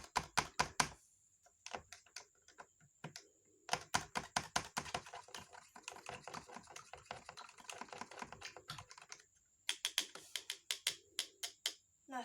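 Solutions A and B stirred together after mixing, giving quick rhythmic tapping clicks in steady bursts with brief pauses, close and clear with no voices.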